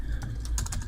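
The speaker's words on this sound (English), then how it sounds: "So I'm just going to type in the information here." Fingers typing on a computer keyboard: a short run of a few light key clicks, close and quiet over a steady background hum.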